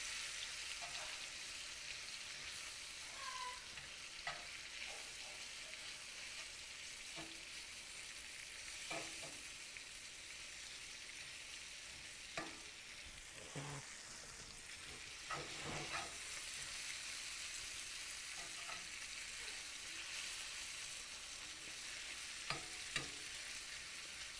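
Beef browns in a pan for a stir fry, a faint, steady frying hiss running throughout with occasional soft scrapes and stirring knocks from the utensil.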